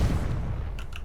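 A Confringo fire spell blast in Hogwarts Legacy, a loud booming burst with a low rumble that rolls on for about a second and a couple of faint crackles near the end.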